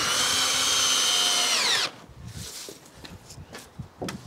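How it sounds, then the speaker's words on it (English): A power drill drives screws into wall frames, running steadily and loudly for about two seconds then winding down, followed by quieter knocks and rustling of framing work. "Get some screws in."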